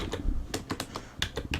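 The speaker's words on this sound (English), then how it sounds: "And I type Prolog" Keys clack on a computer keyboard as a Prolog command is typed, about eight distinct clicks in an uneven rhythm, close and fairly quiet, with no voices.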